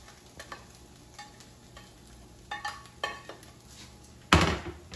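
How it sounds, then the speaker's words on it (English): Cooked beef and onions are stirred into potatoes in a skillet: a soft sizzle runs under scattered scrapes and light metallic clinks, ending in a sharp, loud clatter of utensil against pan. "I'm going to add cooked beef and onions to the potato."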